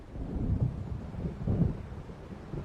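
Thunder from an approaching storm in Alan Wake Remastered rolls in two low, muffled swells over a steady bed of rumbling noise, moderately loud and without voices.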